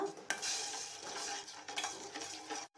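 Rasam powder being stirred into simmering gojju in a pot, a spoon scraping and swishing steadily against the metal sides at close range, with a faint sizzle beneath and no voices.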